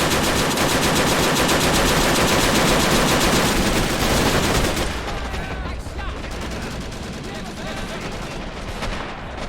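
Sustained machine gun fire and explosions from the World War II video game Men of War: Assault, set in the battle of Iwo Jima. The fire is dense and loud at first, then thins into scattered bursts.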